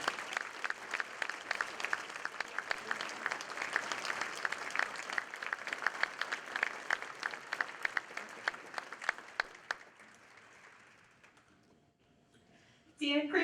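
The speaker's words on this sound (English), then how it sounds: "Please join me in a round of applause to congratulate our newest Paul Harris member" An audience at a Rotary gathering applauds a newly named Paul Harris Fellow with sustained crisp clapping that thins out and fades near the end, and a brief sharper burst of sound follows.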